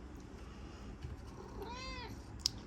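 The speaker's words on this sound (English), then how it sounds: "And we have a cat joining us." A house cat meows once, a faint drawn-out meow heard at a distance in a quiet room during a crochet lesson, followed by a brief sharp click.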